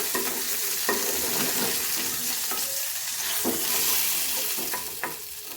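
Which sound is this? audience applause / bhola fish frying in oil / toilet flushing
bhola fish frying in oil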